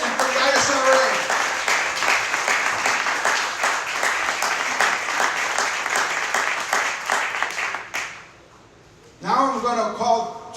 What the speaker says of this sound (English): let's have a round of applause for IGO and for the ISRA